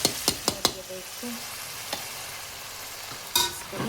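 Pressure-cooker halwa being stirred in a kadhai, with a spoon scraping and clacking against the metal in several sharp knocks over a soft, steady sizzle, and no talking.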